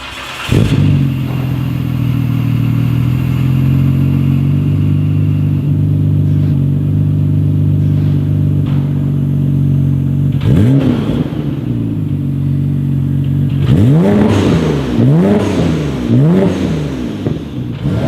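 A modified Nissan Skyline R34 GTR V-Spec engine idles steadily nearby with a deep, even burble, then revs sharply once and again in a quick series of rising and falling blips toward the end.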